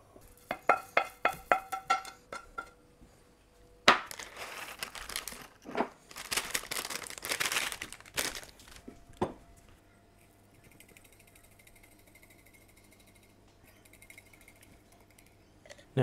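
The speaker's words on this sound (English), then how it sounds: "So we can pop those in the mortar and pestle and grind them up along with the other spices." Toasted spices are crushed in a mortar and pestle, giving a run of sharp rhythmic knocks, then scraping and gritty crunching bursts that fade into quiet, with a soft hum near the end.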